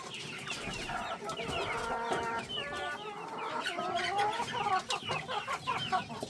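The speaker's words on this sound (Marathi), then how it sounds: "हे पहा, कोंबड्या एकदम आवडीने खातात." Hens cluck and murmur continuously in a close, busy chorus while pecking at feed, with occasional louder squawks and no talk.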